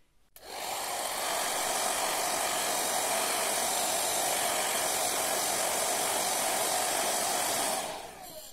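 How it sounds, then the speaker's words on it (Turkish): Hair dryer aimed at a tablet battery to soften the adhesive, a steady loud blowing hiss that switches on abruptly, runs for about eight seconds, then cuts off. "Bunu saç kurutma makinesiyle ısıtıp çıkartmaya çalışacağım şimdi."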